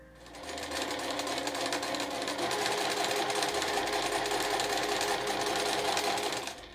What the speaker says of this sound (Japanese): そしたら今度は際を縫います。